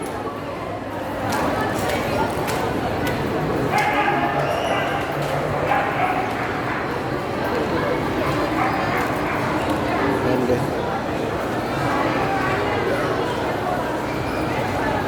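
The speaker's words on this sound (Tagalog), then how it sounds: "parang mga pure huskies yan" Several husky dogs bark, yip and whimper repeatedly over a busy background, with people talking nearby.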